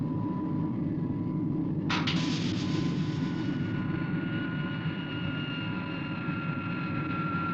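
An airplane engine drones steadily overhead as a low, continuous rumble, with a sharp burst partway through and no one speaking.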